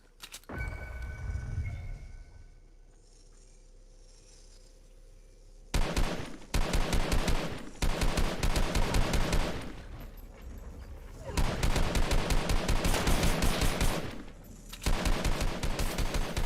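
Automatic gunfire in the Fortnite video game, several long rapid-fire bursts separated by brief gaps, loud and dense, with a quieter stretch of background noise before the shooting begins.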